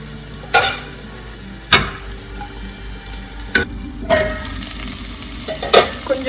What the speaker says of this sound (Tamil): அதனால் நீங்கள் வந்து நல்லா பொறுமையாக இதை வதக்கணும்.